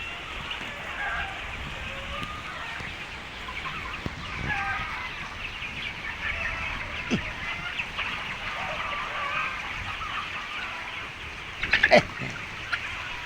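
Chickens cluck softly in an open outdoor space on a farm, with steady background noise and a short burst of louder clucking near the end.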